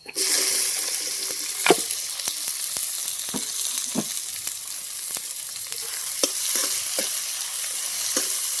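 Onion frying in hot oil with cumin in a pan over a wood-fired chulha, a continuous close sizzle broken by scraping stirs at irregular intervals.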